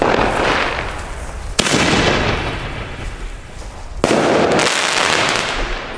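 A Weco consumer firework from an Aldi set goes off outdoors in loud crackling, hissing bursts with two sharp bangs spaced a few seconds apart. Each bang is followed by a long, sputtering, decaying burn.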